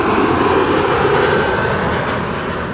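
A KLM Embraer 175 jet arriving at Amsterdam Schiphol from Bremen makes a loud, steady engine roar, close and continuous with no talk.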